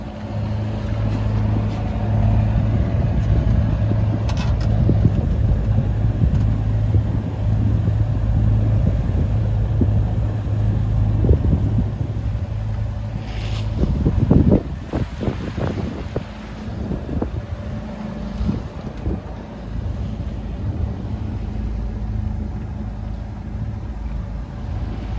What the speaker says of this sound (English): I'm motor sailing.